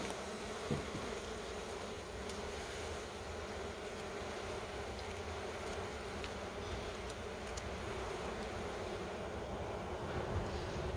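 Honeybees in a National hive during a full hive inspection, their steady dense buzzing continuous and close throughout, with no voices over it.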